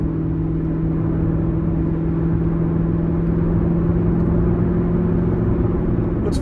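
Chevrolet Corvette ZR1 cruising in sport mode, heard from inside the cabin as a steady low engine drone and road rumble that hold constant throughout.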